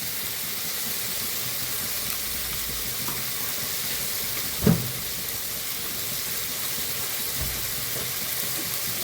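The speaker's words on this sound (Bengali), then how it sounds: "এটা আমি এখন মশলাটা গুলে এটার মধ্যে দিয়ে দেবো, পেঁয়াজ ভাজির মধ্যে দিয়ে দেবো।" Spice paste mixed with Kashmiri chilli powder sizzling among fried onions in a pan for Bengali murighonto, a soft continuous hiss with one brief louder clack midway, without talk.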